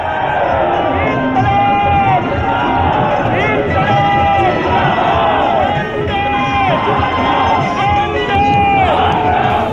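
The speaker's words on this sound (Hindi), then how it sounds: "लहर मोदी के खिलाफ हो या ना, केजरीवाल के समर्थन में उमड़ी भीड़ उम्मीद से ज्यादा दिखी।" A large crowd at a Kejriwal political rally in Varanasi makes loud, continuous noise, with shouting and cheering voices blending into a dense roar throughout.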